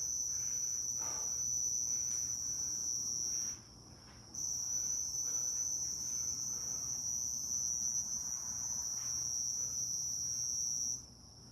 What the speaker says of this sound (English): Trying to find out what that cricket is.